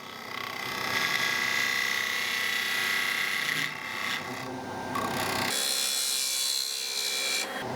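A wooden octagon winged bowl spins on a lathe while a gouge trims it, giving a steady close scraping and rasping whine that shifts in tone as the cut changes.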